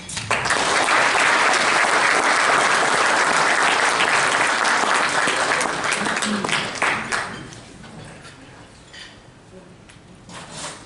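An audience welcomes a speaker with loud, dense applause that holds steady for several seconds and then thins out into scattered claps and room noise.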